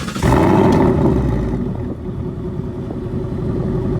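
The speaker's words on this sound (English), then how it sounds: "I hate going through the exhaust modes to wake up the car. I just want it to be loud all the time." A 2018-2019 Ford Mustang GT with a Palm Beach Dyno tune gives a loud, close engine and exhaust roar that surges at the start, eases off, then holds a rumbling drone.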